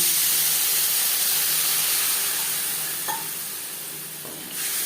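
Carrots and vegetable stalks sautéing in a pan for a Bengali chorchori, a loud, dense sizzle and hiss filling the whole span, slowly easing, with a couple of faint stirring knocks.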